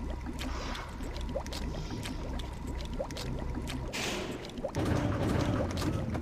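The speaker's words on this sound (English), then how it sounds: "I like this like water sound." Steady flowing water from the Silent Hill 3 final boss area, a continuous trickling, bubbling wash with small splashy ticks throughout, swelling slightly denser near the end, moderately loud and alone without talk.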